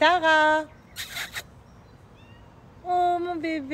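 A cat meows twice, a long harmonic cry at the start and another near the end, with someone speaking softly in between.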